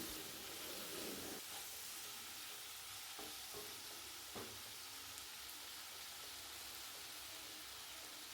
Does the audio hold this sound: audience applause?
no